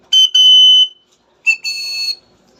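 Two loud, shrill whistle blasts blown close up, each beginning with a quick chirp then holding a piercing tone, separated by a brief silence, with no other sound.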